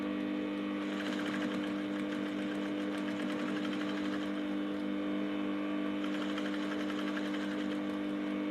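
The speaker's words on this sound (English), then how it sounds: "I am going to stitch this down" Domestic sewing machine stitching a corset with bra cups, running in a steady continuous whir with a rapid needle rhythm, fairly quiet and close, with no voices.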